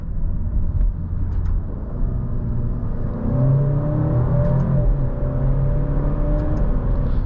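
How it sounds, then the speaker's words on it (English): A 2023 Alfa Romeo Giulia Veloce with a 2-liter four-cylinder engine accelerates through its ZF 8-speed automatic, a steady cabin rumble with engine tone rising and dropping across quick upshifts, no talking. "even going through the gears is pretty quick with a ZF 8-speed,"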